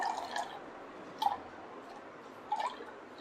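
Thick coconut milk strains through a kitchen strainer, giving a few soft, faint drips and trickles spaced about a second apart against a quiet background.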